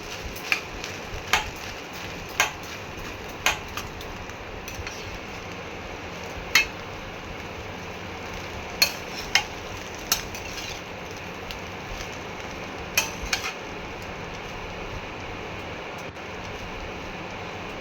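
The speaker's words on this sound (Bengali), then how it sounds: "এই ভাতগুলো এর মধ্যে ভালো করে মিশিয়ে নিচ্ছি।" Cooked rice is stirred into a hot pan to make fried rice, with sharp, irregular spatula scrapes and clacks against the pan over a faint, steady sizzle.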